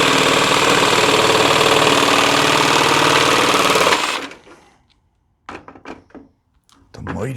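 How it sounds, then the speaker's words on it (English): A jigsaw runs loud and steady for about four seconds, then stops, followed by a few close knocks and clatters on a basement workbench. "Mighty jigsaw."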